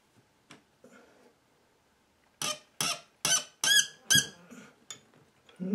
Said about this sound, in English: squeaking like a mouse, that's good. That's brass deforming.